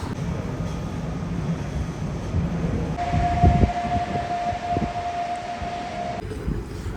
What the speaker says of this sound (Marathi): चला आपली ट्रेन आली.